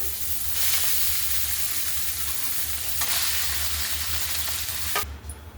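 Fenugreek greens and mashed potato paratha filling fry and get stirred in a pan, giving a steady sizzle with a few sharper scraping strokes of the spatula.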